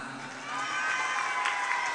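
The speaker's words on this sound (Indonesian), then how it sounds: "tepuk tangan." Children at an Islamic Quran school celebration cheer and shout in a loud, continuous crowd roar that swells after a quieter opening moment, with some clapping mixed in.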